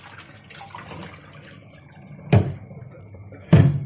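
Catfish being rinsed and washed in water for a larb dish, with soft handling sounds and two sharper splashy bursts of water partway through and near the end.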